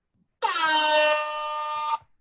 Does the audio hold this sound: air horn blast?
yes